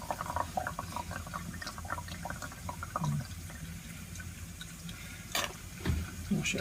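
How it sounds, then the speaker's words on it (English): Water rinsing leftover benzoic acid out of a laboratory beaker, with a steady wet trickle and splashing running throughout and a few brief louder sloshes near the end. "There's an awful lot left in the beaker, so we shall wash that out with water"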